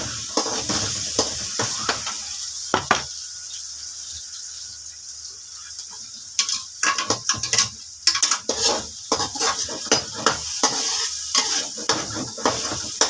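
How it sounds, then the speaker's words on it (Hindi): Onions frying in a pan with tomato, garlic, ginger and green chili paste, a steady sizzle broken by irregular bursts of stirring and clinks of a utensil against the pot, close and fairly loud, with no talking. "इसको होने देंगे थोड़ा सा फ्राई"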